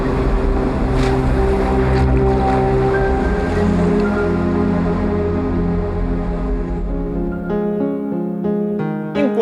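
Ocean waves washing onto a beach in the film The Truman Show, a steady loud surf wash blended with sustained tonal music throughout, no talking.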